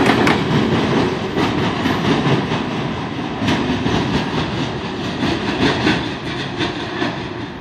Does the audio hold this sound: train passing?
yes